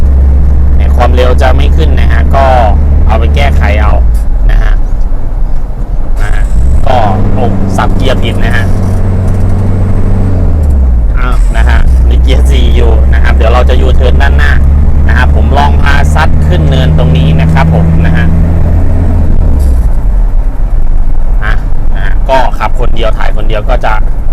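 A 1993 van with a 2.5 diesel engine driving in third gear, a steady low droning engine hum with gear changes and shifting pitch, running continuously beneath someone talking throughout.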